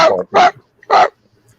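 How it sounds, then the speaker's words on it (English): A puppy gives three short, high yapping barks close by, spaced roughly half a second apart, with quiet gaps between them. "Is the one you hear barking all the time."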